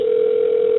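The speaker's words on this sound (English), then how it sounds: "just hear the background, little ringing there" A steady telephone tone sounds as a caller is connected on a radio call-in round table, one continuous unbroken pitch, close and fairly loud, with no voices over it.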